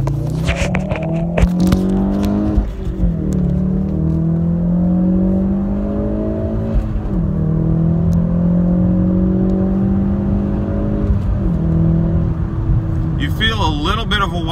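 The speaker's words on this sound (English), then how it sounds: "Now the camera might fall on this because I'm gonna launch it." Ford Focus RS engine launching from a stop and pulling hard through the gears, loud cabin drone with rising pitch sweeps and brief dips at each shift.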